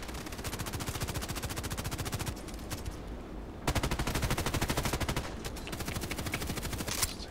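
Rapid automatic gunfire in the online shooter Contract Wars fires in long, dense bursts with barely a pause, loud and continuous, broken only by a short gap partway through.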